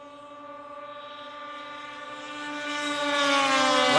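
A 1989 Polaris snowmobile engine races along a track, a steady high-pitched harmonic whine that climbs in pitch and loudness as the sled draws nearer, with no voices over it.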